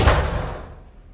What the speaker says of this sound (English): Very heavy door too.